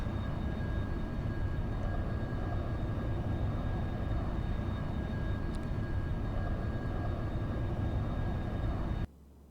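Light aircraft engine droning steadily in flight near Christchurch, heard as a loud, constant cabin hum and rumble that cuts off abruptly at the very end.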